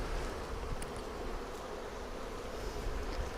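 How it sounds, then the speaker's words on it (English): Honeybees buzz around an opened Flow Hive while its frames are being shifted, making a steady, dense outdoor hum from many insects with a few nearer passes, and no talking. "I can tell the bees aren't particularly loving my slow pace here"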